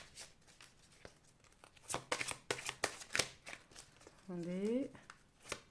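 A deck of oracle cards is cut and shuffled in a series of crisp riffling, slapping bursts at close range. Someone speaks briefly among the shuffles.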